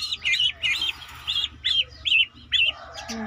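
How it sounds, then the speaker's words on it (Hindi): Hens and chicks peep and cheep in a steady run of high chirps, about eight clear calls close by, over low background hum with no speech. "मुर्गियाँ"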